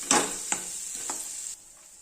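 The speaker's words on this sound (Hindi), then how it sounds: "गैस की फ्लेम लो पर करेंगे और खोए को भी अच्छे तरीके से भुनेंगे।" Khoya milk solids roasting in a pan over a low gas flame, a steady soft sizzle with a few scraping stirs of the spoon, close by, before the sizzle drops away.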